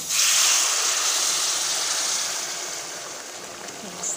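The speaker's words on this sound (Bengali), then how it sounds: "এখন অ্যাড করে দেব একদম ফুটন্ত গরম জল" Boiling hot water poured into a pan of fish curry makes a loud, broad rushing hiss that starts strong and slowly eases off, heard up close and alone.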